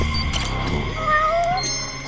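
Cat meowing in the Judge Eyes video game, a few short rising cries over a steady background of game music and ambience, moderately close.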